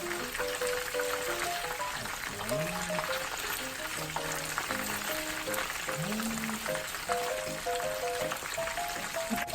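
Korean-style fried chicken pieces deep-frying in hot oil give off a steady, dense sizzle and crackle, close and continuous, with a tune playing over it.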